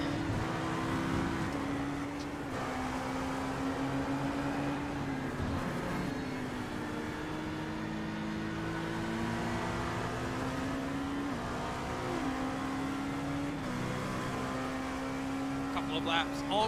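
A GT racing car in a sim racing game at Watkins Glen drones steadily with a high, shifting engine tone that rises and falls through gear changes, under ongoing speech.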